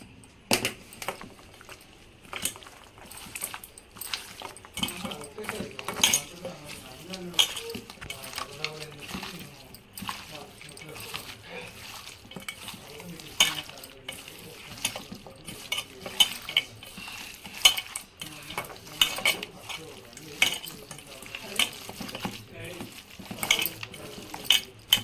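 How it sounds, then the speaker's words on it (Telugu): A spoon stirs and clinks in a bowl as a cashew chicken masala marinade of chicken, spices and salt is mixed, making steady wet squelching and scattered taps with a voice talking throughout. "ఇక ఇవన్నీ కలిసేటట్టు ఇప్పుడైతే మంచిగా కలిపి పెడతాము"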